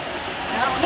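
Tinago Falls, a waterfall in Iligan in the Philippines, roars as a steady broadband rush of falling water that grows slightly louder toward the end, with people talking faintly beneath it.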